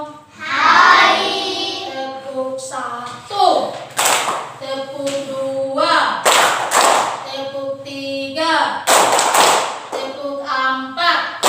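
A primary school class claps hands together in short rhythmic bursts during an Indonesian classroom lesson, sharp sharp group claps alternating with children and a teacher chanting and speaking between them.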